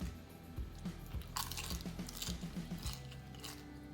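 Crunchy chewing and biting of stir-fried shrimp heads cooked with Thai roasted chili paste, close up and fairly quiet, with repeated crisp crunches through a few seconds and no talking.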